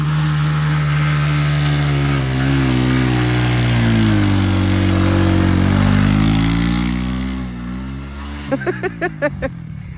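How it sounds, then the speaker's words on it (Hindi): A motorcycle engine runs steadily close by on a sandy desert road in Cholistan, its pitch rising and falling as it revs, then a few sharp sputtering pops near the end. "ये होता है मोटरसाइकिल चलाना"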